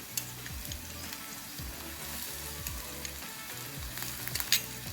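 Ginger-chili paste sautéing in a pan for corn oat upma, a soft continuous sizzle with low rhythmic scraping strokes repeating every half second or so, close but fairly quiet, no voices.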